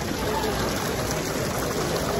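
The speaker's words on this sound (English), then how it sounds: "Fountain." Water of the Trevi Fountain in Rome pours and splashes in a steady, even rush, with faint crowd murmur in the background.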